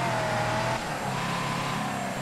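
A damaged car engine in the Mafia 3 video game, a steady loud droning hum with a slight dip in pitch partway through, running continuously with no speech.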